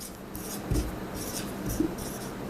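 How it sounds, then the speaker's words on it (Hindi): A pen scratches quietly across paper in short, close strokes with soft tapping, and no one speaks. "हम यहां पे साइड में लिख लेते हैं"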